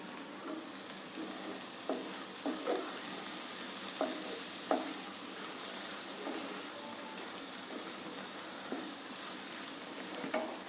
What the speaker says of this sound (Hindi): इसमें हम जो भिंडी हमारी फ्राई हो रही थी वो उसमें हम डाल देंगे।